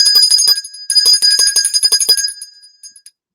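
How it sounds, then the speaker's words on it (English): A bright bells-and-whistles sound effect rings out in a quick cluster of chiming, tinkling strikes, loud and close, then fades away after about three seconds. "Speaking of jokes, little bells and whistles for Ronnie S."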